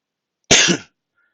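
A single short, harsh cough bursts out close by, lasting under half a second, followed by silence.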